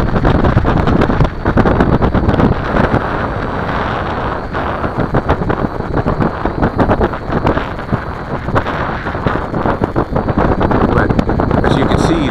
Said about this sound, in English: But as you can see, the X6 can't fight the wind though. 15 knot wind.